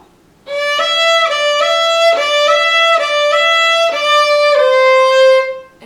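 Bowed fiddle plays the third part of the old-time tune Old Melinda at a slower tempo, evenly spaced repeated strokes on one pitch before a final step down, close and unaccompanied after a short silent start.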